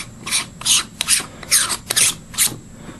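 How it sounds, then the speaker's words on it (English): Close-up lens being screwed clockwise onto a threaded lens extender, giving a string of short, close scraping rasps at an uneven rhythm, with no talking. "So once you get it lined up, simply just turn it into place"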